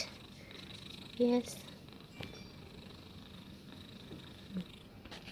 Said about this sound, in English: She's just a lovely cat.